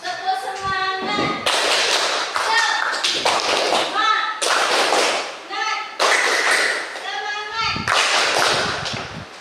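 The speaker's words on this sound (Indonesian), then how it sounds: "Tepuk semangat." Schoolchildren in a classroom perform a rhythmic clap chant, loud group clapping in patterned bursts mixed with their chanting voices, close and lively throughout.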